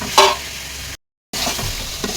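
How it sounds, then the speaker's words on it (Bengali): Fried chicken pieces go into sizzling cooked-down spice masala in a pan, producing a close, loud frying hiss with stirring scrapes, broken by a brief silent gap before the sizzle resumes. "আমি এখন এই মশলার মধ্যে সুন্দর করে কষানো মশলার মধ্যে মুরগিগুলো দিয়ে দিচ্ছি ভাজা মুরগিগুলো"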